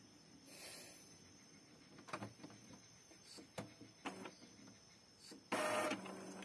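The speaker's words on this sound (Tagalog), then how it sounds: "Ngayon mga normal na activity ng printer" An Epson L5290 inkjet printer mechanism runs after a gear fault is cleared, making soft whirring and several sharp clicks. It ends in a louder burst of mechanical grinding, close by.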